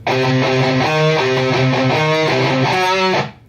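A distorted electric guitar plays a riff from a metal song, heavy sustained chords shifting in a chugging pattern, loud and close, then cutting off abruptly near the end.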